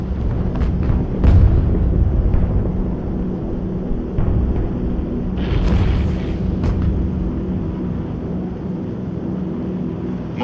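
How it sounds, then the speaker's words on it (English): Anti-aircraft flak bursts surround a B-17 Flying Fortress bomber, dull booms and thuds scattered over a continuous droning engine roar, several sharp impacts early then a cluster of louder bangs midway, all heavy and close. "the enemy knows the path of your approach and walls that path with a flak barrage"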